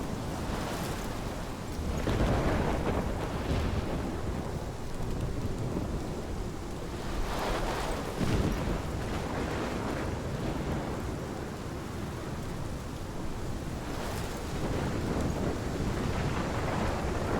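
A storm in the video game Life Is Strange, with steady heavy rain and wind and rolling thunder swelling in several waves, loud and continuous with no talking.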